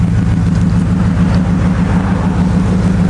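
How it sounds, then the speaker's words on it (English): A pickup truck's engine idles steadily and close by, a deep, even low rumble with a constant throb and no revving, alone with no talk over it. "This is how sexy my truck sounds."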